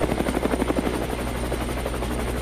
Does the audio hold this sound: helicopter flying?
yes